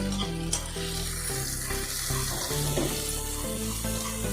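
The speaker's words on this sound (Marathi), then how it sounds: "लसूण जिरा अद्रकचा पेस्ट आहे, याला तेलात थोडं होऊ द्यायचं।" A paste of garlic, cumin and ginger frying in hot oil, with a soft continuous sizzle and a faint steady hum underneath, quiet and close, with no speech.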